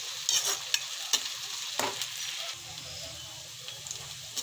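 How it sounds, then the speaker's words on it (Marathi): Onions and chillies fry in a pan for egg bhurji, a steady sizzle with a spatula scraping and stirring in quick clattering strokes, close and fairly loud, with no talking. "बघा थोडी कांदे आणि मिरच्या चांगल्या शिजल्या आहेत।"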